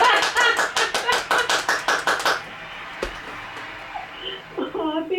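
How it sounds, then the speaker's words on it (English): A quick, even run of loud hand claps, about a dozen in two seconds, then quieter room noise with faint scattered sounds. "First of all, a round of applause."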